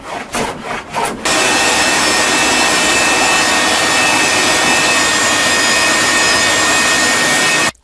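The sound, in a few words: sanding a wooden chair leg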